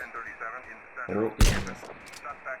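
A single loud, sharp sniper rifle shot rings out in GTA San Andreas, preceded by quieter game ambience and a brief voice-like murmur, then a short decaying tail.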